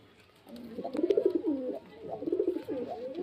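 Soft, rolling coos from pigeons nearby, two bursts of throaty warbling with a short pause between them.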